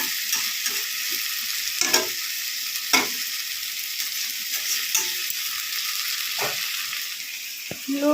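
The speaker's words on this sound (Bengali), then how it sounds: "ফ্লেমে চিকেনটাকে ভালো করে কষিয়ে নাও" Chicken fries in a pan on a flame with a continuous close sizzle, broken by several sharp spoon scrapes and clinks against the pan, with no voices.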